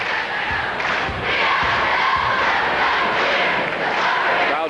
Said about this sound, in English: Crowd still big and still enthusiastic here at the Assembly Hall